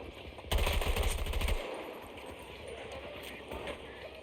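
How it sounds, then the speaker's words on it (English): A close, loud burst of rapid machine gun fire rattles for about a second in the shooter game Battlefield 2042, followed by quieter ambient game noise and a faint later shot. "Got one! Target down! I must reload!"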